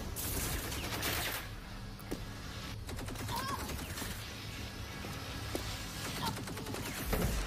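Gunfire rattles through the shooter Rage 2 in rapid bursts and scattered single shots, sharp cracks repeating over several seconds against a steady backdrop of game noise.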